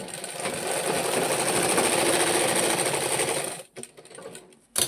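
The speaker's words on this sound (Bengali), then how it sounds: "এই যে মিলাই আপনারা সেলাই মেরে দেবেন" A sewing machine runs steadily, stitching the body of a jacket for over three seconds before stopping, followed by a few brief mechanical clicks and a short restart burst.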